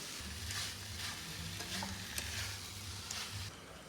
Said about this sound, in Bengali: এবার কড়াতে দিয়ে দেবো। এইভাবে নাড়তে নাড়তে সুন্দরভাবে আঠালো আঠালো হয়ে আসবে।